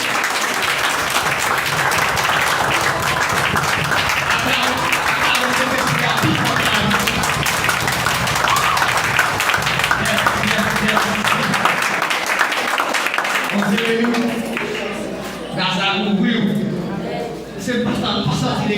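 A church congregation applauding in sustained, dense clapping that holds steady and loud for most of the span before thinning out near the end, with voices mixed in.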